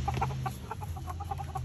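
Several chickens cluck in quick, irregular bursts nearby, over a steady low rumble of background noise.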